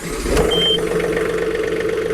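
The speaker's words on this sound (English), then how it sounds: "So now go ahead and fire this up so you can have a good hear at what it sounds like." A 2022 John Deere 3039R compact tractor engine fires up and settles into a steady, close mid-range running note with a brief starter whine near the start, no talk over it.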